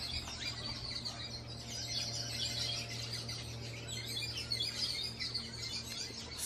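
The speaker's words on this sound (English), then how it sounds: "I hear all these chirping." Faint birds chirp and tweet continuously in the distance over a low steady hum in St Maarten in the evening, with no talking.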